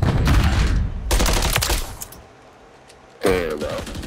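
Automatic gunfire from a first-person shooter video game, in loud rapid bursts up close, then a pause and another sharp volley near the end.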